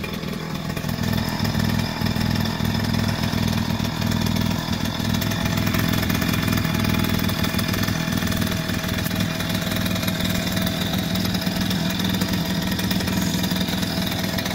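A 2001–2009 Suzuki JR 50 mini bike with a first-gear mod runs steadily for the whole stretch, its small single-cylinder engine giving a loud, close, buzzy drone with a constant low throb and no talk.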